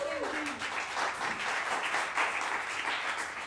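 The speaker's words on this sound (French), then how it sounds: "On peut les applaudir, s'il vous plaît." An audience applauds at a live music session in Brussels, an even, sustained wash of many hands at moderate loudness with a brief voice at the start.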